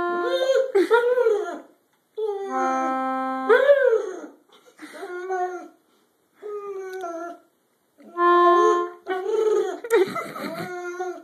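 A dog howls and whines along with a concertina, its wavering, rising cries overlapping the instrument's sustained reedy chords in short phrases with brief pauses, fairly close and clear.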